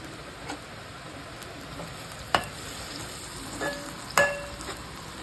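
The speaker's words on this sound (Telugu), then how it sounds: "ఇప్పుడు కరివేపాకు యాడ్ చేసుకొని ఫ్రై చేసుకుందాం." Curry leaves fry in a pan with golden-brown onions, a soft steady sizzle broken by a few sharp ticks and pops of stirring, quiet and close.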